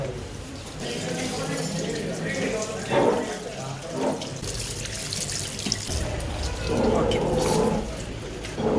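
A water tap runs steadily into a sink while hands are washed after a meal, a continuous splashing stream with small surges, heard alongside people talking nearby.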